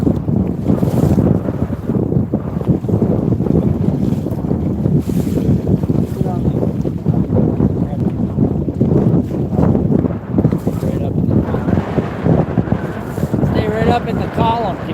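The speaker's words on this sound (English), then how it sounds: "But I can't hear you. There's too much wind." Strong wind buffets the microphone on a bass fishing boat out on Henderson Lake, a constant loud roar with waves slapping the hull, while someone talks over it now and then.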